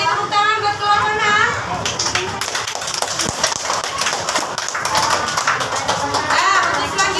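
Students in an Indonesian classroom clapping together, a busy burst of many small hands mixed with children's chatter and a teacher's voice, loud and close, trailing into scattered claps.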